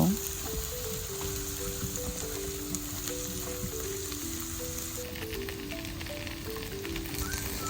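Chopped ingredients fry lightly in hot oil on a gas stove, a soft continuous sizzle and crackle running beneath a louder melodic background music track.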